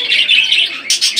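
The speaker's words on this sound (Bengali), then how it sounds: "এখানে ক্রিমিনো কালার এক জোড়া বার্জিকের পাখি দেখতে পাচ্ছেন মাস্টার পেয়ার" Caged crimino-coloured budgerigars at a bird sale: a close, continuous stream of high chirping and twittering, with a sharper burst of calls near the end.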